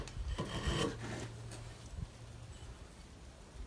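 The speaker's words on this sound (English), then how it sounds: "sometimes you still have to shave this down just a little bit if you didn't get" Shaving a timber-frame brace with a hand tool to fit a mortise: a few close, dry rasping strokes of wood rubbing, strongest early on and fading into quieter scraping.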